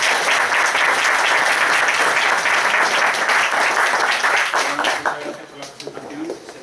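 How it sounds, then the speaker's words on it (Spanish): Loud, dense applause from a large audience fills the room, then tapers off toward the end. "Y pido un aplauso muy fuerte para Diego."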